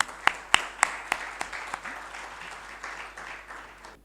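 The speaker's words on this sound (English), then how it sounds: "Please see him off with a round of applause," A conference audience at a capital markets event applauds a departing guest. A few sharp close claps open a short wash of crowd clapping that fades out over a few seconds.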